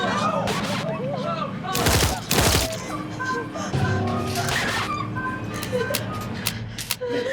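Gunfire in a true-crime homicide dramatization: loud broadband bursts of shots around two seconds and again near four seconds, heard over loud music with voices mixed in.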